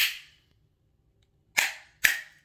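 A vintage Halloween noisemaker sounded three times, sharp loud snapping cracks like cap-gun pops, one at the start and two close together near the end, with silence between.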